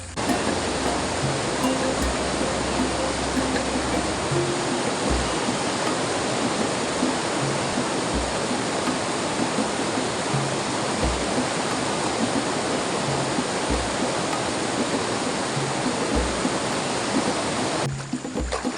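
A river rushes steadily and loudly past a riverside hut, a dense continuous wash of flowing water with faint low thumps underneath.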